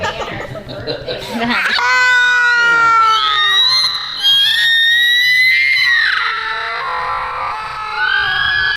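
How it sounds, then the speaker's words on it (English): A child screeching in a YouTube video, a shrill sustained wail that rises and wavers over several seconds, loud and harsh, with laughter and voices mixed in around it. "it's always the screech of a kid"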